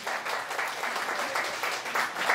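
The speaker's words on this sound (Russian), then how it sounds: "Аплодисменты нашей папулечке." Wedding guests applaud at a Russian wedding reception, producing a steady, moderately quiet wash of clapping that continues evenly from start to finish.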